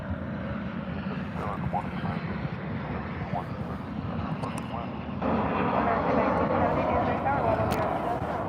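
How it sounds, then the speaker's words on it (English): American Airlines Boeing 737-800 jet airliner at DFW airport, a steady broad roar that swells louder partway through as it passes fairly close, with a voice talking over it. "Here comes an American Airlines 737-800."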